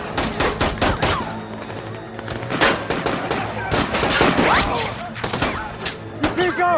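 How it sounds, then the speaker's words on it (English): Sniper rifle gunfire in a TV drama scene, with repeated sharp, loud shots cracking at irregular intervals and overlapping into bursts. Voices are heard now and then between the shots. "Snipers engage."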